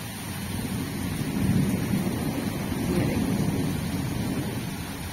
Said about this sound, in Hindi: ये देखिए कितनी अच्छी बारिश हो रही है।